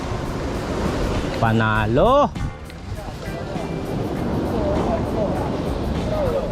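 Steady surf and wind roar wash over a seaside spot behind an eatery on a bike tour of Panay, with a voice calling out briefly over the waves.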